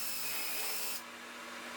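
A Ryobi drill bores pilot holes into wood, giving a steady high-pitched whir that cuts off abruptly about a second in and leaves a quieter hum.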